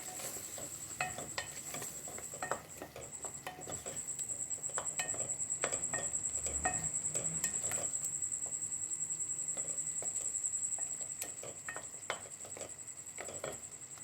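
Potato-and-egg curry masala with turmeric and coriander powder being stirred and fried in a pan, giving a steady sizzle broken by repeated scrapes and clinks of a spoon against metal, close and continuous with no talking.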